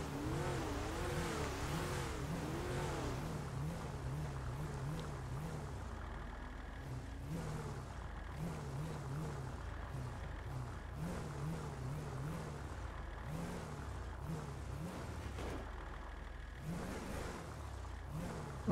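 A car in GTA 5 Online drives steadily with a continuous revving engine that rises and falls as it accelerates, fairly even in loudness throughout with no talking.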